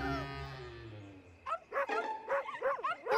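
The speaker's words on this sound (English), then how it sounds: "It's the other pups!" Cartoon puppies make a drawn-out whimpering whine, followed by a quick run of high yips and barks, close and lively.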